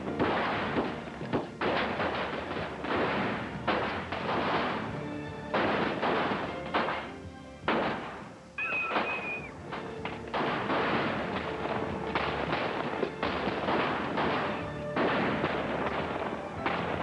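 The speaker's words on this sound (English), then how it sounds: "There were firecrackers because it was the day before the 4th of July." Firecrackers set off the day before the Fourth of July pop and bang repeatedly in rapid, uneven bursts, some sharp and close, others duller, continuing throughout with hardly a pause.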